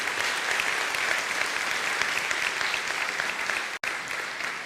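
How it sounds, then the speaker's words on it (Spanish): A church congregation applauds the Lord with steady, dense clapping that fills the room, sustained and fairly loud, with one brief break near the end before it resumes. "denle un fuerte aplauso al Señor"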